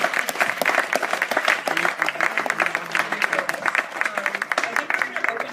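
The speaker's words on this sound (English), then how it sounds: "please clap for her" A theatre-style conversation audience applauds steadily, dense clapping that runs evenly for several seconds, with voices mixed in underneath.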